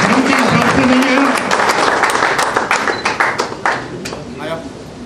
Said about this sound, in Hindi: मैं चाहूंगा कि आप सभी ताली बजा के स्वागत करें उनका